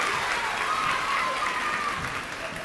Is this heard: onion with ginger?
no